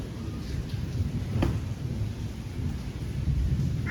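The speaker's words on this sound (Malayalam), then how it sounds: "ഇടിയെല്ലാം മുട്ടുന്നുണ്ട്. ഇപ്പൊ സൗണ്ട് കേട്ടാ അത്." Thunder rumbling with rain on a rainy evening in Kerala, a steady wash of rainfall with one sharp thunder crack and low rolling rumble, no voices.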